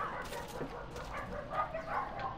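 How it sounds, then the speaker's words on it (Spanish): Dogs fighting in the street in the video game Left 4 Dead 2, yips and barks bursting out at mid distance beneath faint background game noise. "Y perros peleando en la calle, ¿por qué no?"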